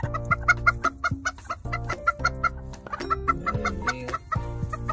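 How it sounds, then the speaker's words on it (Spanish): A flock of chickens clucks busily alongside high, rapid peeping of small chicks, close and continuous with overlapping calls and no talking. "Ahí va ya la pollada de nuevo."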